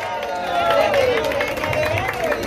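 An audience applauds at a concert hall, with broad clapping and crowd noise around a voice that carries over the top.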